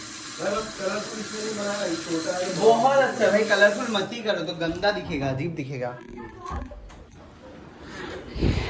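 A household tap runs hard while someone washes their hands, making a steady rushing hiss for about four seconds before it cuts off. A person talks over the water and keeps talking after it stops.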